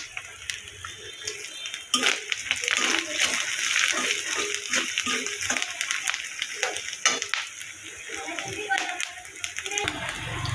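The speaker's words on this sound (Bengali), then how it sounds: "অল্প একটু পানি দিয়ে কষিয়ে নেব" Water poured into frying turmeric, chili powder and salt in a cooking pan, a sharp hissing sizzle with sputtering pops and stirring clatter, moderately loud and close.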